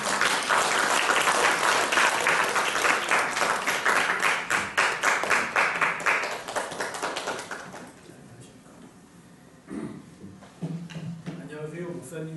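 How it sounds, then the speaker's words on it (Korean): Congregation in a church applauding to welcome a new student at a theological graduate school entrance ceremony, rhythmic group clapping for about seven seconds that tapers off, after which a person begins talking. "박수로 환영합니다."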